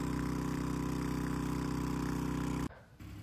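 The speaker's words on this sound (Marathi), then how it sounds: "आम्ही ट्रॅक्टरमध्ये बसलो आणि थोडंच पुढं वेळ चालला होता ट्रॅक्टर" A tractor engine, towing a filled water tanker, idles with a steady, throbbing low drone that cuts off abruptly near the end, leaving quiet background noise.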